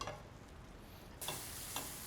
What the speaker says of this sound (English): So just going to bring this to a nice sizzling heat to ensure the raw aromas are removed.